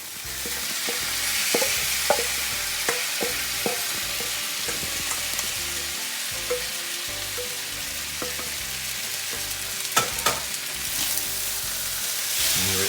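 Small sausage pieces sizzle loudly and steadily in a frying pan for a frittata, with repeated scraping knocks of a utensil stirring them through the hot fat and no talking.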